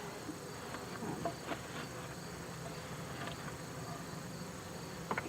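Bees buzzing around a beehive during hive work, a faint continuous droning hum with a few louder passes close by, quiet outdoor background and no talk.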